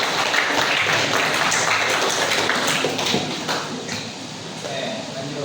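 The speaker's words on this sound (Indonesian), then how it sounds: "berikan tepuk tangan" A classroom of students at a school religious-education lesson claps together in a dense, continuous patter of applause that tapers slightly toward the end, with voices mixed in.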